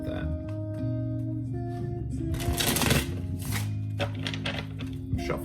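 Tarot cards are shuffled by hand in several quick riffling bursts, close and crisp, over a low steady background tone.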